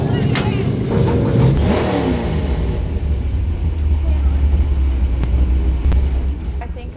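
A car engine at a racetrack drones and revs steadily at loud volume, with a rising whine early on and a low sustained rumble throughout.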